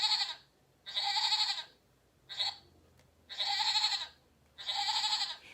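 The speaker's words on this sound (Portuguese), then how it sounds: "Agora a gente vai ouvir o som deste animal." Goat bleating on a farm, five loud, nasal calls in a row separated by short pauses, the middle one noticeably briefer, heard up close with no talking.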